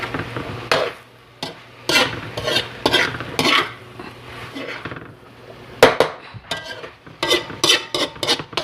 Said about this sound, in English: we're going to give this one a good mix